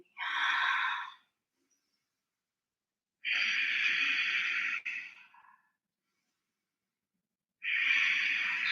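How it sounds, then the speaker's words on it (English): Slow, deep breaths during a live restorative yoga flow: three long airy exhalations, close and fairly loud, separated by quiet pauses, with no talking. "keep breathing nice and deeply"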